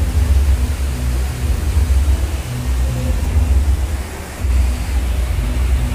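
Heavy monsoon downpour in Haldwani, a dense, steady roar of rain and rushing water that stays loud and close for the whole stretch, with a brief dip near the end and no voices.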